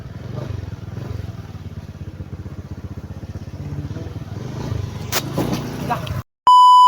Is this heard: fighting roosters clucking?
no